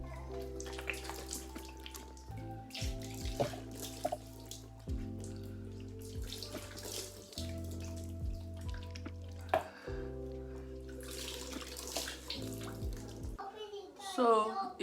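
Water runs and splashes steadily from a tap during face washing with CeraVe Acne Control Cleanser with 2% salicylic acid, with handling and splashing bursts, and a voice is heard in the background.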